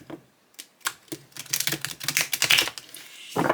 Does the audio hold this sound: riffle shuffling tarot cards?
yes